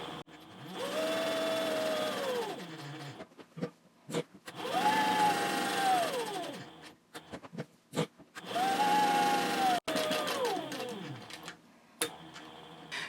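A domestic sewing machine bastes along the edges of handbag fabric panels in three separate bursts of steady whirring stitching, each rising and settling, with short quiet pauses and small handling clicks between them.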